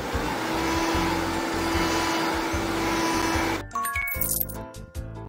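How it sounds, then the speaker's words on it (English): A vacuum cleaner drones steadily close by, then cuts off, leaving clinks and rattles of small objects. "Vacuum here too."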